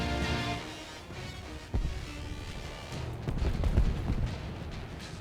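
Gunfire and artillery in the War Thunder combat game: a steady low rumble of battle with a sudden loud thump near the two-second mark and a denser cluster of blasts and shots toward the end, no talking.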